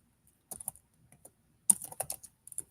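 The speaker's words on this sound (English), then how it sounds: "now I'm going to type in Ivan Pollock" Fingers tap on a computer keyboard in two short bursts of crisp, close key clicks, separated by a brief pause.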